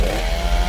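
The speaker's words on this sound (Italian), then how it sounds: "Motosega." A chainsaw revs in a video game, a short, steady, loud motor buzz with a slight pulsing rhythm and no talk.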